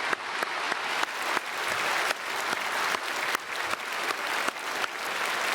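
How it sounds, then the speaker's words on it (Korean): Church congregation applauding during a Sunday worship service, a dense wash of many hands clapping together, steady and fairly loud, with faint regular accents that suggest some people clapping in rhythm. "우리 감사의 박수 드리겠습니다."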